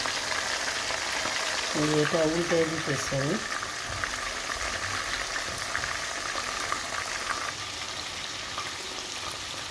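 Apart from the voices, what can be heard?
yogurt-marinated chicken kebabs frying in a pan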